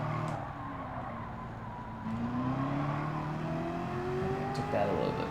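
A Corvette racing in Gran Turismo 7 on a Tour de France-themed event, its engine note rising and falling steadily through gear changes with tyre skids and squeal, loud and continuous under game audio.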